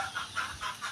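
Farm chickens cluck in a quick series of close, fairly loud bursts, with no voices over them.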